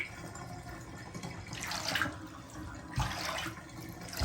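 Water draining out of a tortoise's soaking tub, a soft continuous wash of running water with two brief louder gurgling surges.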